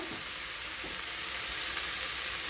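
Faint, continuous sizzling of frying food in a pan as masala dosa filling is stirred, an even hiss with no clear separate strokes.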